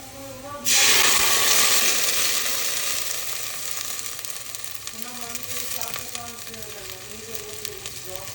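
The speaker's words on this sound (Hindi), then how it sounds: "कुकिंग ऑयल, उसमें प्याज डालूंगी बस। छोटा सा मैंने एक प्याज डाला है।" A small onion dropped into hot cooking oil for a simple dal sets off a sudden loud, close sizzle that settles into a steady crackle for several seconds, with a faint voice underneath.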